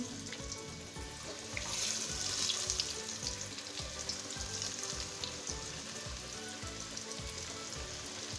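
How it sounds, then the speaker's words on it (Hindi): Coated chicken drumsticks deep frying in hot oil, a dense, steady bubbling sizzle that swells briefly early on and then continues evenly at close range. "एक अच्छा सा लाइट गोल्डन ब्राउन कलर आने तक फ्राई करेंगे।"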